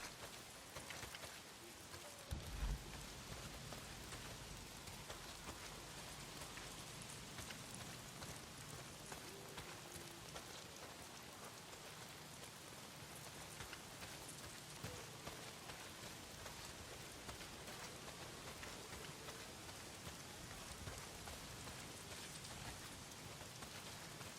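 Steady heavy rain pours throughout in the video game Days Gone, a dense constant hiss of drops hitting surfaces, with a brief thump early on and no voices.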